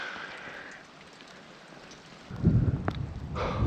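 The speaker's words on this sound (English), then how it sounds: "That's a lot of rain." Heavy rain pouring down outdoors at a gold-prospecting spot, a steady dense hiss that swells louder and rougher partway through, with low rumbling underneath and no voices.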